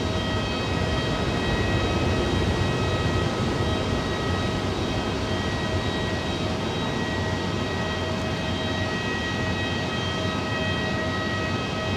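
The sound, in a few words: Swiss Airbus A330 airliner on runway 18 at Zurich Airport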